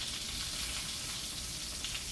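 Chicken shallow frying in about half an inch of oil or butter in a pan gives off a soft, steady sizzle, faint and continuous with no talking.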